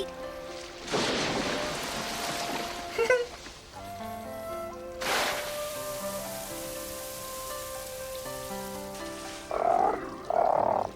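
Giant toad from the Naruto anime croaking in two short bursts near the end, after a long stretch of background score with rain-like noise.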